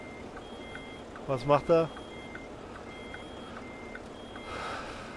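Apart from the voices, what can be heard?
truck reversing beeps in video game American Truck Simulator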